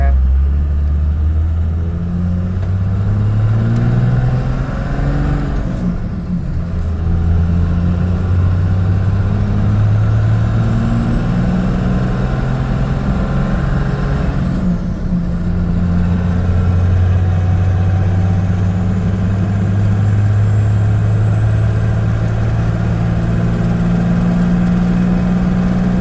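A 12-valve Cummins diesel truck towing 22,000 pounds pulls away, its deep engine drone rising and falling through several gear changes over a long, steady stretch, loud and close.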